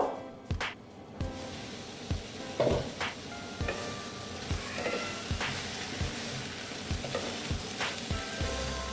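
Ridge gourd and egg masala sautéing in a covered pan, a steady close sizzle and fry with repeated spatula scrapes and clinks against the pan at irregular intervals, no talking.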